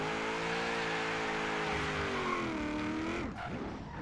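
A V8 turbo Hummer in Forza Horizon 3 drifting through a parking lot, its engine droning loud and steady with shifting revs before easing off near the end.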